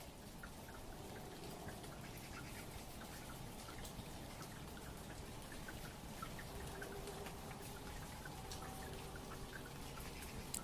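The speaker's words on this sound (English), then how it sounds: "sit out in the rain with me" Steady rain patters without a break, with scattered drops striking something close by through a soft, continuous wash, and no voices over it.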